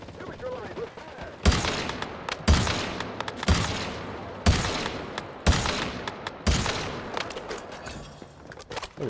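Loud bursts of gunfire in the survival shooter Once Human, six heavy volleys roughly a second apart, each with a sharp crack and a rumbling tail, close and dominant over the background.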